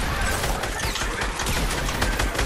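Dense, continuous gunfire in the video game Fortnite, loud rapid bursts overlapping into a steady rattling volley with no pauses.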